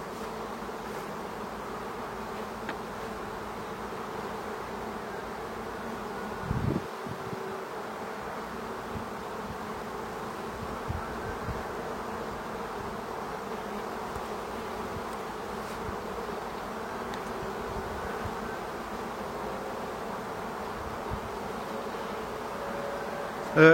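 Honeybees buzz in a steady, continuous drone around an open hive during frame work while a queen-rearing box is set up, with a few soft knocks and handling noises near the start and a brief dip mid-clip.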